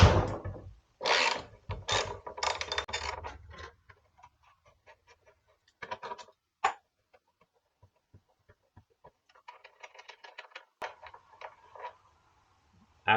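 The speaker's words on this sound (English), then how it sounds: "Size for this axle nut is a 19mm socket. So let's go ahead and break that loose." A ratchet with a 19mm socket works loose the front axle nut on a 2002 Suzuki GS500 motorcycle, giving bursts of loud, quick clicking followed by sparse, fainter ratcheting clicks and small clanks.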